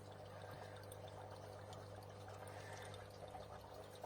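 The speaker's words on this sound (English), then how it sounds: "Then it trickles down the front there." Water trickling and dribbling down the front of a vampire crab tank from a pipe near a brown stone, a faint steady pour under a low constant hum from tank equipment.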